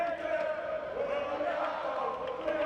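A British crowd roars steadily in a large arena during a wheelchair tennis men's quad singles gold medal match at the Rio 2016 Paralympics. The cheering is a sustained, distant wash of voices with no single shout standing out.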